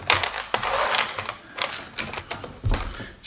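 Vintage Merit electric derby horse racing table-top game, made in England, with its motor flicking ball bearings up channels to knock the little horses forward: a close, irregular run of sharp metallic clicks and rattling taps, alone without talk.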